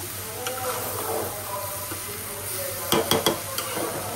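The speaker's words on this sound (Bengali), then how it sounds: "আমি একটু খিচুড়ি রান্না করতেছি, শর্টকাট রান্না হবে" Khichuri cooks in a pot while a spoon stirs it, making soft scraping and a faint sizzle, with a short cluster of metallic clinks against the pot near the end. No one speaks.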